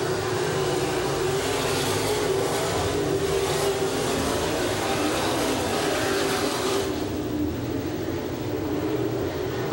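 Sprint cars race around a track under green-flag conditions at a 1996 feature, their engines roaring as a continuous, loud, far-reaching wash of sound with no voices heard.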